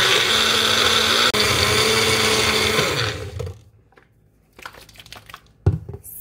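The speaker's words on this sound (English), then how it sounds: "you're gonna blend this together until it becomes a paste" A blender loudly purées sofrito of peppers, onions and garlic into a thick paste with no added liquid, a steady whirring grind for about three seconds before cutting off, followed by faint clatter and scraping of the jar.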